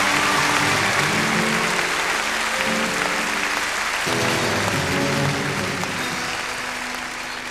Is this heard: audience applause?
yes